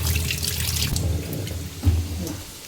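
Tap water running steadily into a sink while a plate is washed, close by, with a continuous splashing flow and a brief louder splash near the end; no talking.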